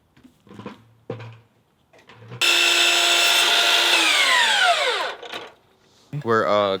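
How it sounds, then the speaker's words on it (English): A power tool cuts through wooden deck boards in one loud sustained run lasting a few seconds, its pitch sagging as it bites, with brief voices and knocks before and a short whine after. "We're cutting the deck boards."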